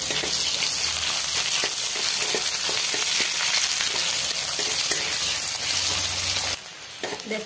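Onions fry in a pan for Odia aloo chokha, a loud, dense sizzle with crackles and stirring scrapes that continues throughout, easing off abruptly near the end.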